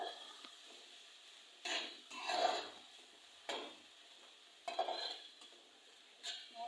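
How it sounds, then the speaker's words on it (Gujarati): Intermittent scraping and stirring in a pan with faint sizzling as crushed ginger, garlic, chilli and onion are sautéed for tempering millet flatbread, several short bursts separated by quieter gaps, close by. "આદુ લસણ મરચાં અને કાંદાને ક્રશ કર્યા છે, સરસ રીતે સાંકળવાનું છે"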